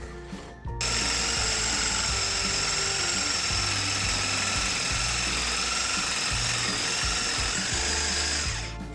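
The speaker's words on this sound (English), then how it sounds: "A handsaw and a cheap jigsaw gets the job done." A jigsaw whines loudly and continuously as it cuts through wood, with the pitch dipping and rising under load, starting abruptly after a short pause.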